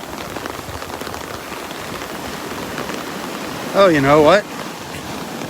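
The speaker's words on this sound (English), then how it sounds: "That rain is coming down harder." Steady rain hisses down on a beach in a dense, even wash, and someone speaks briefly over it partway through.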